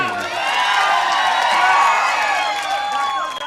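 A large crowd at a political rally in Indapur cheers with sustained, dense roaring and shrill whistles layered over it, loud and continuous for a few seconds before easing off slightly at the end.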